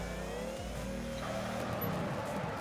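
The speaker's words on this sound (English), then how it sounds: "This car just sounds very, very awesome with that supercharger just whining in" A supercharged car engine in the video game Torque Drift hums steadily with a high, thin supercharger whine layered on top, the pitch shifting slightly as it revs.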